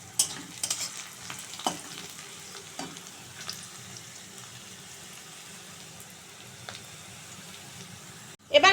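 Chopped onions fry in a pan until reddish-brown, with a continuous close sizzle and repeated stirring scrapes. The sound runs alone with no talk and ends in a brief louder clatter.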